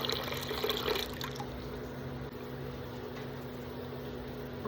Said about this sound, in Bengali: আমি 2 বাটি চাল নিয়েছি, 4 বাটি জল দিতে হবে। তো দেবো